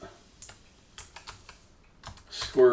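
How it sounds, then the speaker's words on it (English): Someone types on a computer keyboard in short irregular bursts of clicky keystrokes, close and fairly quiet, with brief pauses between clusters. "I can just start typing, and it'll get me close"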